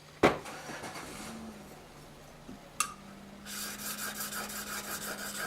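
A steel plane iron rubbed back and forth on a finer sharpening stone, a soft gritty scraping with a sharp knock early on and another tap midway, then a louder steady rasping stroke toward the end.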